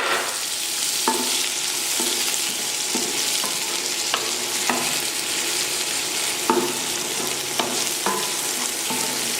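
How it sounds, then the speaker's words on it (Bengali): Dried fish (shutki) frying in hot oil with garlic and onion, a steady loud sizzle broken by occasional sharp clacks of a spatula stirring the pan. "সুটকিটাকে আমি তেলের সাথে ভেজে নিচ্ছি"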